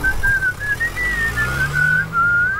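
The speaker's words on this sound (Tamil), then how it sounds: "என்னடா விசில் அடிச்சுட்டா வர?" A person whistles a continuous wavering tune, clear and fairly close, over a low background rumble.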